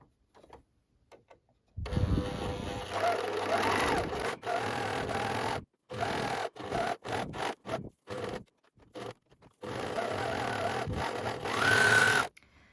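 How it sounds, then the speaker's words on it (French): An overlocker serges the edge of a fabric trouser pocket in several bursts of fast mechanical whirring, separated by short pauses and fabric handling, loud and close, with no talking. "maintenant, ce que nous allons faire, c'est surjeter la poche"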